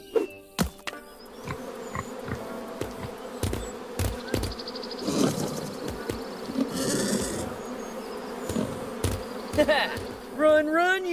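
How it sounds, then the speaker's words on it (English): A swarm of bees buzzing in the hidden-object adventure game Lost Lands 9: a loud, continuous insect drone with scattered clicks and game effects layered over it, and a rising chirping effect near the end. "I hope I can get through before the bees return."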